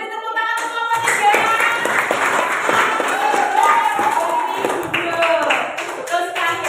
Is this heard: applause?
yes